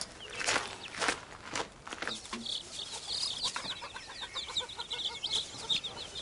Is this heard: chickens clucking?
yes